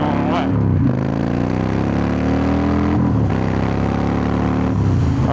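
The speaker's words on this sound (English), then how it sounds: "She's ripping, and I'm short shifting there." A car fitted with a new underdrive pulley accelerates hard with short shifting around 4,500 RPM: loud close engine roar climbing in pitch, with two clear gear changes where the note drops before rising again, steady and uninterrupted.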